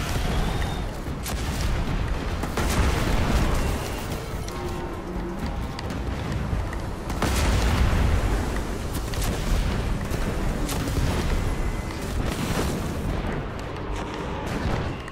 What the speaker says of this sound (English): Scorch cannon.